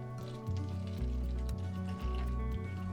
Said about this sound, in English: We're just gonna pour a little bit of this into our recycled coffee cup